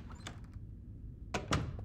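A door opens in the horror video game Nightmare of Decay, with a couple of short, sharp knocks and a thud against a quiet background.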